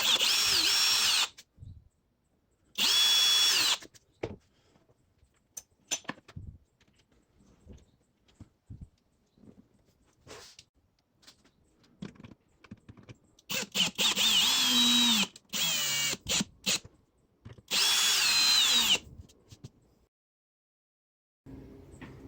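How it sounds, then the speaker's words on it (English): A power drill whirs in several short bursts, pre-drilling and screwing into a wooden cigar box guitar, with quieter handling clicks and taps between the runs. "we're going to pre-drill these two holes"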